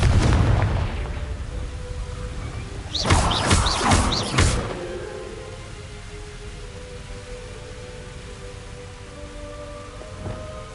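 In Hogwarts Legacy, a Confringo fire spell bursts with a loud crackling blast after a noisy start, then settles into a fading, rumbling game ambience.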